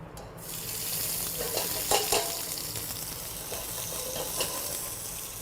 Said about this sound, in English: I'm going to start with the onions and the Swiss chard stems.